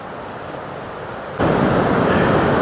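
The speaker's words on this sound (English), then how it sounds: "really the whole distance of the river, with small falls like this" Small waterfalls along a Wisconsin river on the Bayfield Peninsula rush with a steady broadband roar that jumps suddenly louder and closer midway and stays there, with no talking.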